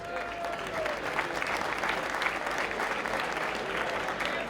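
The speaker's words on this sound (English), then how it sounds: "So a big round of applause" Spectators at a Monaghan football division final applaud their sponsor Maguire International Transport, a sustained, dense round of clapping that carries evenly at moderate loudness, with a faint voice underneath.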